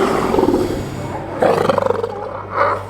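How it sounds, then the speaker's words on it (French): Male sea lions on a rocky coastline give deep, rasping roars in several bursts, one near the start, a stronger pulsing call midway and another near the end, loud and close with no talking. "Vous avez entendu les rugissements de mâles?"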